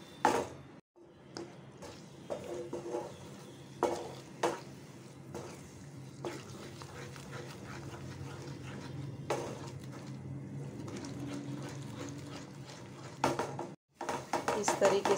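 Egg bhurji is stirred and fried in a pan over a high gas flame, a steady sizzle under repeated clinks and scrapes of a spoon against the pan, with a voice talking over it.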